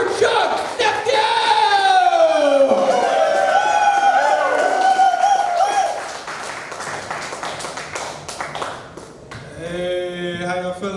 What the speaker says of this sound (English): Start clapping. Start clapping right now. I want to hear it.